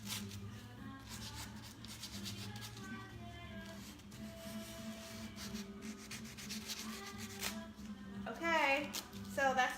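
Hand sanding across a decoupaged surface papered with French script, giving a soft continuous rubbing scrape over steady background tones, with a voice talking and a brief brighter scratchy burst near the end.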